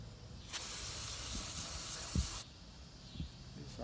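Cleaner sprays onto the MAF sensor of a Tiburon GT in one long, steady hiss lasting about two seconds, close up, followed by a faint brief puff near the end.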